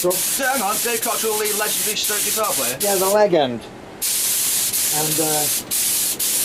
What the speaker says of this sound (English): What's this you're spraying, Doug?